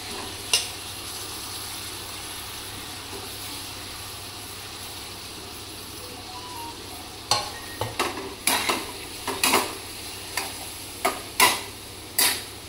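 Prawns with finely cut potato coated in masala frying in a pan, a faint low sizzle at first, then a run of sharp scraping and stirring clacks in the second half.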